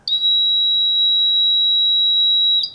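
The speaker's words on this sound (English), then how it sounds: "you'll notice the buzzer will sound" A homemade key alarm for a 1978 Corvette sounds its warning buzzer, a single loud, steady, high-pitched electronic tone that holds for about two and a half seconds and then cuts off.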